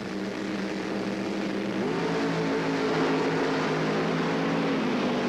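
Drag racing cars at the 1977 NHRA Gatornationals in Gainesville, Florida, Don Garlits against Bob Struckness, a loud sustained engine roar with rising pitch as the cars accelerate, steady and continuous without voices.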